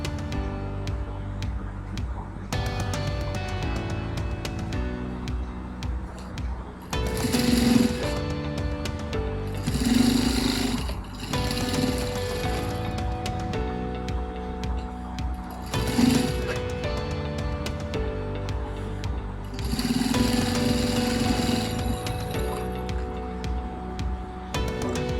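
A sewing machine stitches a jute lunch bag, its steady mechanical whir running throughout with several short bursts where the stitching speeds up, close and fairly loud.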